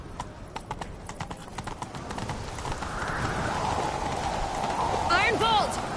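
Hooves clip-clop in a fast, steady gallop in a PS4 game, growing denser as the horse speeds up, with voices in the background and a whinny near the end.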